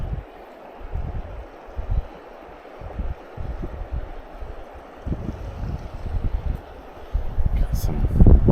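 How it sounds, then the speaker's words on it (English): Gusty wind blows at a creek, a low, rumbling buffeting that swells and dips over several seconds and grows strongest at the end. "Wind picking up on us."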